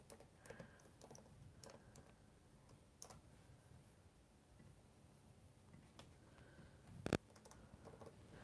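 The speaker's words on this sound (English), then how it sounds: "I'm typing in the chat that we buffered hard" Quiet, irregular keyboard typing with scattered soft clicks over a low background hum, plus one sharper click near the end.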